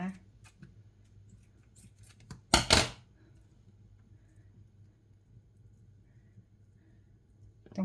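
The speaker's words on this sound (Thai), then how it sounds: "ตัดเบคอนใส่เลยนะคะ" Kitchen scissors snip through raw bacon strips for a bacon omelette in a home kitchen, a short burst of two or three crisp cuts near the mic, followed by quiet low background hum.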